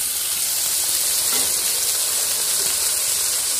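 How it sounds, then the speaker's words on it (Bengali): Chopped chicken sizzles and fries steadily in a hot pan, a continuous close, loud crackling hiss with no voices. "এবার আমি চিকেন কোচাটা দিয়ে দেবো"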